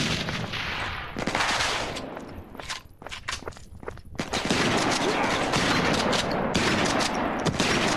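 Shotgun fire in an Android first-person shooter game, with a series of loud booming shots and clattering bursts alongside footstep-like noises, dense and close over a busy game soundscape.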